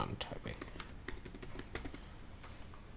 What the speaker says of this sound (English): Sorry, let me just type first